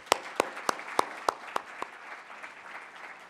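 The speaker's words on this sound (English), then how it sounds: "We got to give a big round of applause to FITC staff and volunteers." Conference audience applauding in a packed room, a wash of clapping that starts with several loud, distinct claps near by, then thins and fades over about three seconds.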